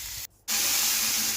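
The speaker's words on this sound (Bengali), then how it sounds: "প্রথমে আমরা এই শিম আলু ভাজাটা ভেজে নিই" Beans and potatoes frying in oil in a pan, a close continuous sizzling hiss that cuts out briefly near the start, then returns and stays loud and steady.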